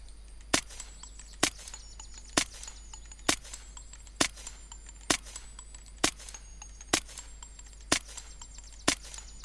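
Zubeknikov rifle shots in Unturned ring out one at a time at a steady pace, about ten sharp cracks spaced roughly a second apart over a faint background hum, with no talk.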